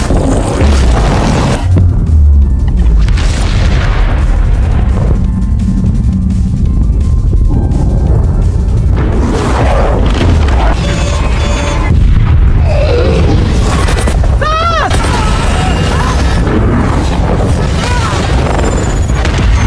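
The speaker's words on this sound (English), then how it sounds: "With a massive mushroom cloud rising, the entire canyon was leveled to the ground in an instant" A massive explosion with a rising mushroom cloud levels an entire canyon, heard as very loud, continuous booming and rumbling with rolling blasts and roaring debris that saturate the whole stretch.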